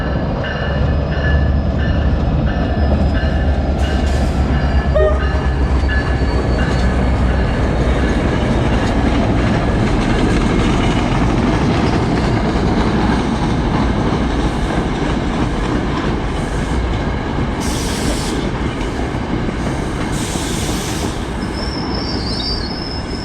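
A New Jersey Transit diesel engine hauls mixed Metro North and New Jersey Transit cars slowly into a Bergen line station, a loud close rumble with repeated high wheel squeals and a few clacks over the rails.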